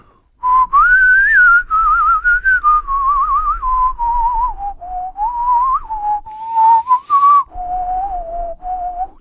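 A person whistles the Irish tune Planxty Irwin, clear and close, with pitch gliding between sustained notes and a few brief breaths between phrases.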